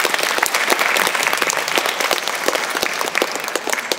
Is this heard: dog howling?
no